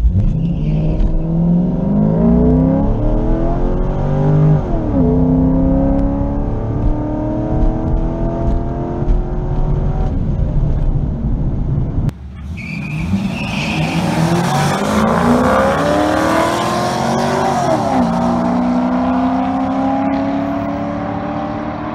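A C5 Corvette accelerates hard at a drag strip, engine roaring loud and close as it climbs through gears with audible shift breaks, a brief cut near the middle, then another full-throttle pull with tire noise.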